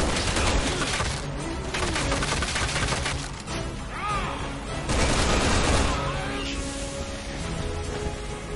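Shotgun and other gunfire in the Resident Evil 6 video game, a loud, dense barrage of blasts and crashes with game music and effects running continuously throughout.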